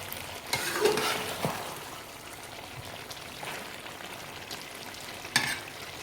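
Tomato is stirred into chicken curry gravy in a pan, giving a steady sizzle with scraping spoon strokes and a few louder clacks, close and alone with no talking.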